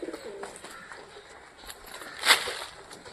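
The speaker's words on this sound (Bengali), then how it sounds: "চালে দেখো সব কবুতর আছে" Pigeons, among them frilled Giribaz, perched on a roof, with soft cooing and bird calls in the background and a brighter flutter or call near the end. A faint voice calls to them now and then.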